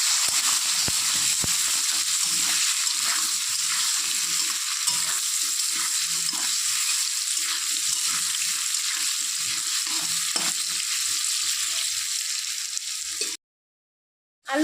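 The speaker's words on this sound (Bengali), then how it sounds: "এখন আলু দিয়ে দিচ্ছি আলু দেওয়া হয়ে গেছে এর মধ্যে দিয়ে দিচ্ছি সামান্য নুন এক থেকে হলুদ দিয়ে আলুগুলোকে একটু ভাজতে হবে" Potatoes frying in hot oil with a little salt and turmeric, a steady close sizzle and hiss running nearly the whole time with occasional stirring scrapes, then cutting to brief silence near the end.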